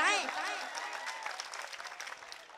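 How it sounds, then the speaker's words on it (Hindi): Crowd applause at an all-India poetry mushaira in Malegaon rises under a fading voice, then continues as a loose, moderately quiet patter of clapping. "बात सच हो तो एक बार जोरदार तालियां बजाकर मुझे बताएं"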